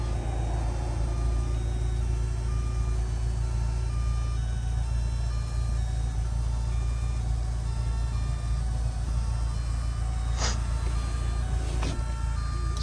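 The power convertible top of a 1999 Volkswagen Cabrio GLS whirs steadily as it operates, a constant near mechanical drone that runs under the car's steady warning beeps, with two sharp clicks near the end.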